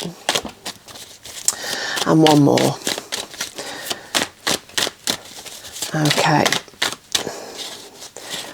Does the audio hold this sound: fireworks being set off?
no